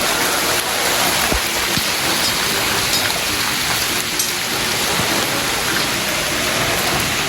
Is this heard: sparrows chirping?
no